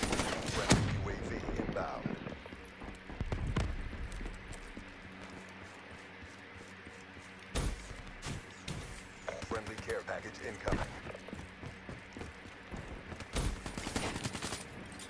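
Gunshots in the video game Black Ops 3 ring out in sharp bursts and scattered single cracks through a busy multiplayer match, with a player talking over the firing.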